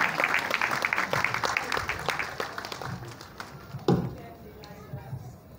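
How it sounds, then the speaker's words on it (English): An audience at a youth church service claps and cheers for performers coming on stage, a steady spread of applause that slowly thins out. "So please encourage them with your cheers, with your clap."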